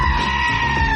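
A goat bleat sound effect from a sports talk radio station ad rings out loud and close, one sustained wavering cry lasting about a second.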